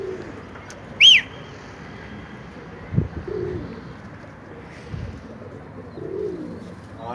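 Pigeons kept in a loft coo in soft, low rounded calls spaced through the scene, with one sharp high whistle or chirp near the start, over quiet background noise.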